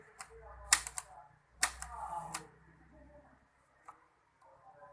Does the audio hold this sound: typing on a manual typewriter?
yes